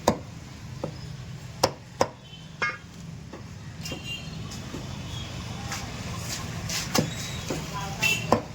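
Knife chopping boneless chicken on a board, sharp irregular thwacks at uneven intervals over a low background hum, with a voice talking faintly in between.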